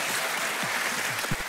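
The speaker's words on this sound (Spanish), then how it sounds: "Aplausos espontáneos por ahí." Brief burst of applause from a small crowd, steady clapping that fills the moment, with a few low murmurs underneath.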